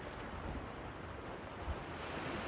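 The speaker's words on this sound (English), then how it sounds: "Best sounds, the ocean." Ocean waves wash ashore at night on the Azores islands, a steady broad roar of surf mixed with wind buffeting the microphone, fairly faint and continuous.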